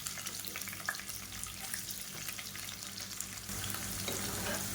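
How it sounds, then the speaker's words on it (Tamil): Chopped large onions sizzle and crackle steadily in hot oil in a pan while cooking a Tamil kulambu, a continuous close frying hiss with a few faint stirring clinks and no talk. "இப்போ எண்ணெய் நல்லா சூடாகிடுச்சு நல்லா ஒரு கைப்பிடி அளவுக்கு பெரிய வெங்காயம் பொடியாக நறுக்கினதை சேர்த்துக்கலாம்"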